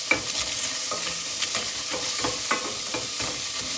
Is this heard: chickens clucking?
no